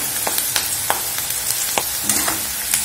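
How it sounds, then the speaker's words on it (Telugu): Chopped onions sizzle and crackle steadily in hot oil for bitter gourd curry, with sharp spoon-stirring clicks scattered over the continuous close fry. "చూడండి ఉల్లిగడ్డ ఇలా వేగుతుంది కదండి"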